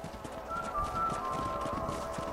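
Horses' hooves clip-clopping in Red Dead Redemption, a quick, fairly faint trot under a steady background hum, with no talk.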